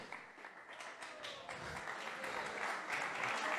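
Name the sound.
applause for podium finisher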